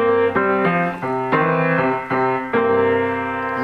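Blues phrase on piano mixing major and minor colour, with a bent-sounding grace note; a series of sustained chords and melody notes shifting every half second or so, played alone at moderate loudness.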